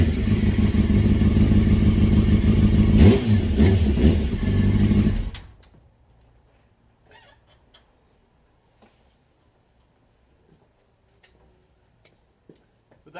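Motorcycle engine running loud and steady with a brief rev swell, then cutting off abruptly into near silence broken by faint clicks and ticks.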